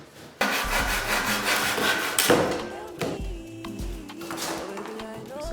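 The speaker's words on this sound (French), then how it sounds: "Donc, on va essayer de couper." A wooden baseboard is cut by hand during a home renovation, giving loud, close rasping saw strokes that run steadily and then continue in shorter, scraping bursts.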